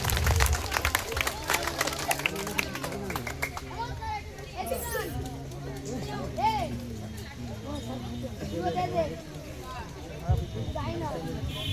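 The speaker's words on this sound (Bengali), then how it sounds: "তো স্যারের জন্য আমাদের নিজস্ব স্যার একটু জোরে করতালি দাও প্রত্যেকে নিয়ে" A group of children at a karate coaching camp claps in ragged bursts, loud at the start and then quieter, with children chattering and someone talking over the applause.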